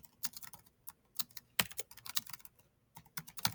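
Computer keyboard typing in short irregular bursts of clicking keystrokes, close and fairly quiet, with no one speaking.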